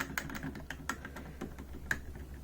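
Keys clatter on the Alesis QMini keyboard's mushy membrane buttons, a quick irregular run of soft, muted clicks, close and fairly quiet with no talking.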